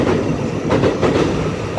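A ten-car silver-green EMU900 electric multiple unit, set EMU908, runs through Su'ao New Station on a test run, a steady loud rumble with rhythmic clickety-clack of wheels over rail joints heard close by.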